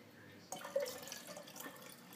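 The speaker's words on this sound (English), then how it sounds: "Now we're going to pour it into the alkaline solution." Reconstituted Dead Sea salt seawater is poured into an alkaline solution, a soft, faint trickle and splash that starts abruptly and continues quietly with small drips.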